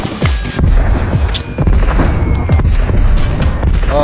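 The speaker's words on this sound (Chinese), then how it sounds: "终究没抗住爆炸弓的远程范围伤害" Explosive bow blasts from the mobile shooter Peacekeeper Elite, heavy booms and gunfire-like bursts rumbling through a chaotic firefight, loud and repeated over about four seconds.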